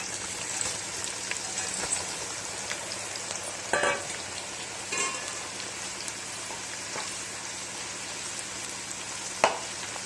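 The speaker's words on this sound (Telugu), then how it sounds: "ఇక తిప్పుతూ మంచిగా వేయించుకోవాలండి" Bitter gourd frying in a pan for chutney, giving a steady, close, rain-like sizzle with a few sharp clinks and scrapes from stirring, and no talk.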